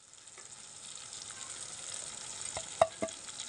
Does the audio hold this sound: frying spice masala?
yes